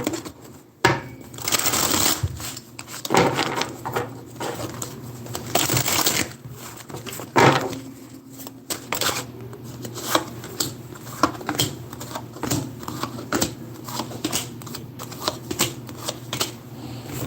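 Cards are shuffled close up in repeated bursts of riffling and sliding, with short pauses between shuffles and soft taps.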